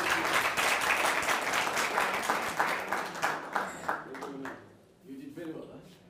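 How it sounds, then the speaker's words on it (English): Audience applause at an African Renaissance event, dense clapping from a crowd that swells and then fades out, giving way to a voice speaking near the end. "I would like us to give a round of applause for the second time."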